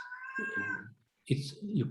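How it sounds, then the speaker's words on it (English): A pet cat meows close by indoors during a webinar: one long, drawn-out call, a brief pause, then a second louder, rougher cry. "I think you also hear my cat. She wants to go out."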